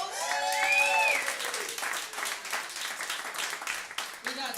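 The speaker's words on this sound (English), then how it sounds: "Give her another round of applause" An audience applauds at a comedy show, a steady wash of clapping that fades slightly, with a voice briefly audible at the start.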